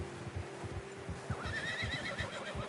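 A horse in Red Dead Redemption 2 gives a clear whinny partway through while its hooves clip-clop in a steady rhythm underneath, fairly quiet and close, with no talking.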